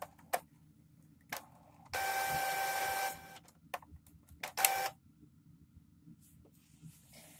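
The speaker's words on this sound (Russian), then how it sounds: "Вот принтер включенный, работает." An Epson inkjet printer, an R290-type model showing a blinking-lights fault, runs nearby with a sustained mechanical whir of about a second and scattered clicks and clunks before and after, with no one talking.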